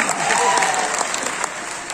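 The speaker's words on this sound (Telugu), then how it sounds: "చప్పట్లు కొట్టాలి" Steady applause from a crowd, dense clapping filling the whole stretch at an even, fairly loud level.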